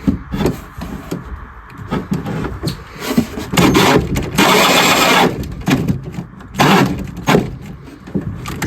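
Cordless drill with a weak battery boring a hole in a closet, whirring in short, close bursts that start and stop, with one longer run in the middle.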